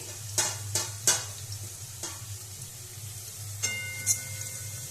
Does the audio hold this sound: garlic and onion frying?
yes